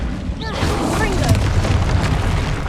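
A Confringo fire spell bursts in Hogwarts Legacy, giving a sustained, rumbling broadband boom that rolls on for a few seconds, with a brief voice call near the start.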